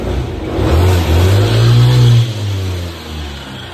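A New Cuxi 100 scooter running with a worn rear gearbox pulley bearing, giving a loud, steady low drone and engine hum that swells slightly and then settles, close up with no talking.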